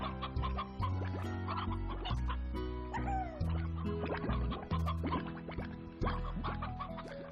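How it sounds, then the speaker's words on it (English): Chickens in the video game Slime Rancher cluck continuously over a busy mix of game sounds and music, producing steady, moderately loud, repeated clucks. "Chickens."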